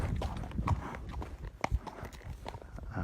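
A horse's hooves beat out a loping rhythm on the ground, fairly close, with irregular thuds and clops over a few seconds and no speech.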